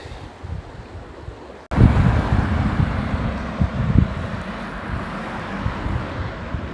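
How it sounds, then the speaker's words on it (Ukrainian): A heavy engine rumble suddenly rises and stays loud, a large bus pulling away on a road between villages in Germany amid strong wind buffeting the microphone. "Це пішов автобус між двома селами."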